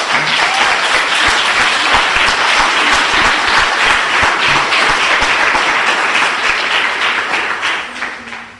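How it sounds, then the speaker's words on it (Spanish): A church congregation breaks into loud, dense applause that fills the room for about eight seconds, then begins to fade, with faint voices mixed in. "Démosle un aplauso al Señor."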